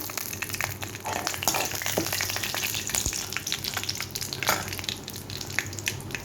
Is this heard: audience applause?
no